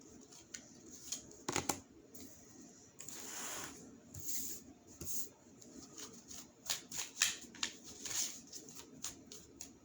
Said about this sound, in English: I'm just shuffling the cards right now to get the piles